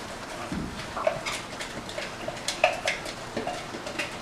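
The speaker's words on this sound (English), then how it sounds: "And now we're going to add in our onion." Chopped onion goes into olive oil in a pot, with soft tumbling, light clinks of utensils against the pot, and a faint frying hiss that continues throughout.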